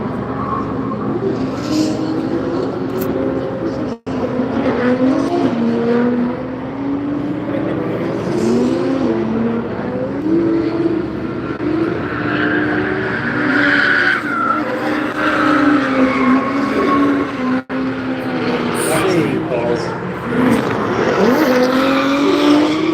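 Drifting cars at Silverstone Japfest scream past with loud, continuous tyre squeal over roaring, revving engines. The sustained screech wavers in pitch, and the noise stays close and intense the whole way through.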